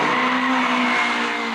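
A Renault Maxi Clio rally car driving, a loud, sustained high-revving engine note held close for a brief moment, with no talking.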